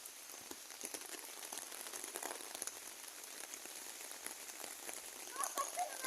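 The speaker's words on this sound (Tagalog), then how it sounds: "Umuulan dito." Steady patter of rain falling on a surface, a soft dense hiss with scattered drops, continuous throughout at moderate distance.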